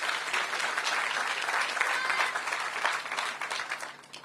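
A crowd claps at the ribbon cutting for the Ward 8 Entertainment & Sports Arena, sustained applause from many people at a fairly close, even level that thins slightly toward the end.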